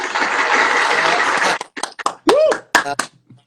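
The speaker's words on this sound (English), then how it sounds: "I'm clapping for myself for joy" One man claps for himself for joy during a casual podcast chat, a dense burst of hand clapping and applause for about a second and a half, followed by spoken words.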